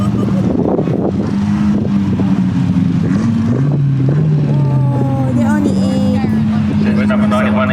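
Race cars pass with loud, steady engine drone, the pitch sliding as they go by, under heavy wind buffeting and people talking nearby.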